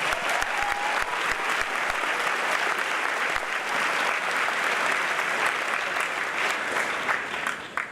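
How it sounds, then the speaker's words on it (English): A school Class Day crowd applauds department award winners with sustained, dense clapping that holds steady throughout, then thins slightly at the very end. "Let's give all these department award winners another round of applause."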